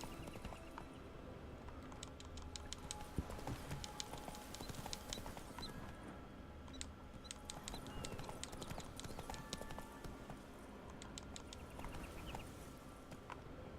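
Hooves of Roach, a horse in The Witcher 3, clop in a steady galloping rhythm throughout, faint and close, over a light ambient game backdrop with occasional small chirps.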